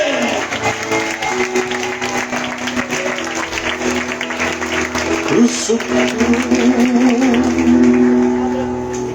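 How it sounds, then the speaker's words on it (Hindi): A church congregation applauding loudly at a Communion Sunday service, dense continuous clapping with crowd voices and a sustained musical or sung tone running beneath it for about nine seconds. "विश्वास करने वाला जोर से ताली बजा के"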